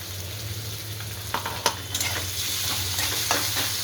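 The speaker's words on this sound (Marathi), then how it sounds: "आपण मिरची टाकून घेते कांदा आणि मिरची तळून निघेल आधी" Onion and green chilies fry in a pan with a steady close sizzle, a low hum underneath, and a few scattered scrapes and taps of a spatula, no voices.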